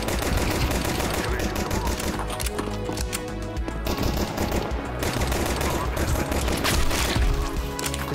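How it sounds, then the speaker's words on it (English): Rapid gunfire in the video game Counter-Strike 2, a dense wash of automatic weapon shots and clattering game effects running continuously and loud throughout the match. "Guns sound super weird."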